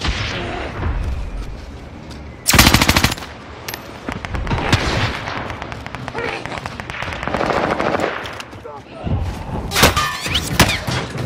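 Gunfire in Call of Duty Warzone on Rebirth Island, loud bursts of automatic fire and booms rattling through the clip, with game voices and radio chatter mixed in.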